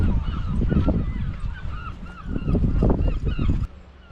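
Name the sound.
chorus of birds, geese honking near beach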